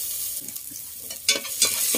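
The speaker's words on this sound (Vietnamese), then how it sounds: "Mình cho vô hết mình xào cho nó thơm luôn" Chopped shallot, garlic and lemongrass stir-fry in a little oil, giving a soft, close sizzle with quick scraping stirs and short bursts of crackle.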